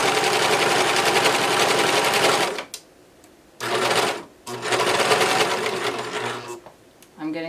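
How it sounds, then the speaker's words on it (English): A serger overlocker stitches down a raw fabric edge in loud, rapid, buzzing runs. Two brief pauses break the stitching before it starts again, and it is close and dominant throughout. "I'll go ahead and serge down this edge."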